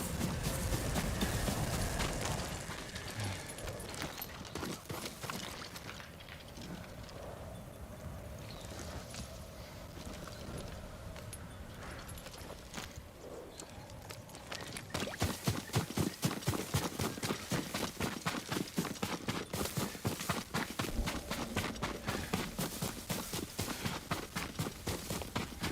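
Horse hooves clip-clop steadily in Ghost of Tsushima, muffled and mixed with ambient noise at first, then turning into a loud, rapid, close run of hoofbeats for the last ten seconds.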